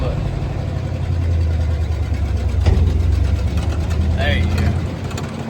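Engine of a truck bought for a sawmill running after the clutch is let out, a steady low rumble that holds and swells slightly, with people talking over it.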